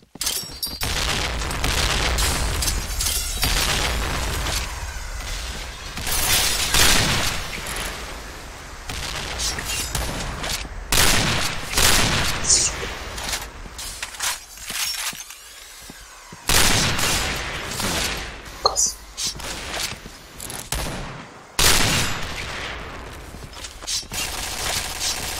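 Rapid bursts of gunfire and heavy explosions in a video game, dense and loud, with volleys and booms arriving in clusters and brief lulls between them.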